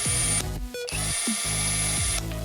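An UBERMANN 18V cordless impact wrench runs loud and close in several bursts. Its motor whines at a steady high pitch and the hammer rattles, with short pauses between the trigger pulls.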